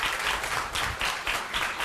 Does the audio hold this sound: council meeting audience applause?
yes